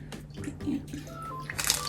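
Light soy sauce is poured onto soft-boiled eggs for a seafood ramen bowl, giving a series of small splashy trickles and drips close by in a quiet kitchen.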